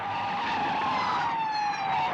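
A car speeds along with tires screeching in a long, steady squeal over a continuous engine roar, loud and close, with no talking.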